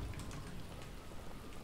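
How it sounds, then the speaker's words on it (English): Steady rain in the Dead Island video game, an even hissing patter with no talk. "It's raining, man."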